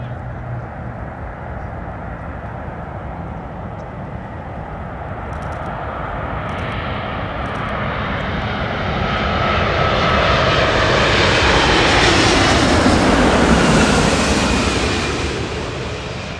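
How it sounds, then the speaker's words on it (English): Qatar Airways Airbus A350-1000 landing on runway 24 right at Los Angeles International Airport, a broad jet roar that swells steadily toward a loud close pass, peaks, then begins to fade. "This flight, Qatar Airways Airbus A350-1000, the largest variant of the Airbus A350."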